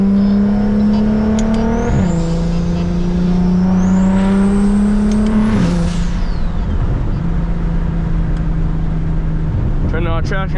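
BMW E92 335i engine and exhaust revving loudly up and down, with a droning note that steps and falls between rev changes and a brief crackly burst at the end.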